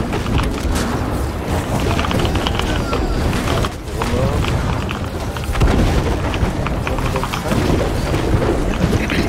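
Booming blasts of cannon fire rumble continuously in a game battle, heavy and loud, with a brief lull midway and voices under the noise.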